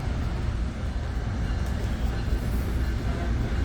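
Interior of an exo commuter train on the Saint-Jérôme Line as it leaves Lucien-L'Allier station in Montreal, a steady low rumble of wheels and motors that holds evenly throughout with no talk.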